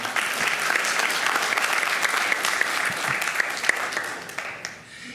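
Sustained applause from an audience at a school district board meeting, steady and dense for about five seconds before tapering off at the end.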